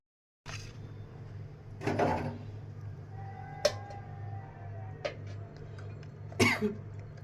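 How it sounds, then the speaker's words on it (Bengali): Several short, dry coughs from one person close by in a quiet room, spaced irregularly over a few seconds, the last one sharper and louder. "একটু একটু কাশি হয়েছে"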